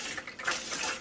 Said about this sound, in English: by stirring it with a spoon here, more juice will fall faster through this colander